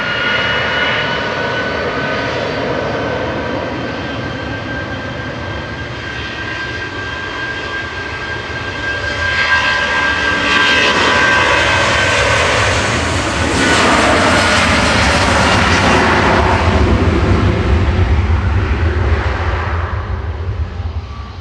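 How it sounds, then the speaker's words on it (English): A jet airliner departs Manchester Airport bound for Zakynthos, its engines a loud, steady broadband roar that swells and peaks midway before holding strong. "LSAK departing here to Zakynthos with flight 977"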